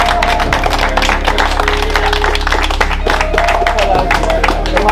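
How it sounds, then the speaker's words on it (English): A round of applause from a small group, with steady close clapping running through the whole stretch while people talk over it. "So I give a round of applause to Martin and Deborah."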